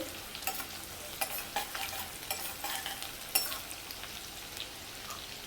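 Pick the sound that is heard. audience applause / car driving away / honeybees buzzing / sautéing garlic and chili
sautéing garlic and chili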